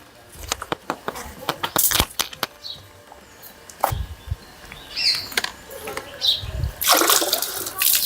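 Water poured by hand into a drinking trough set out for birds, heard as irregular splashes and sloshing bursts with scattered knocks, moderately close, with some speech and outdoor background noise.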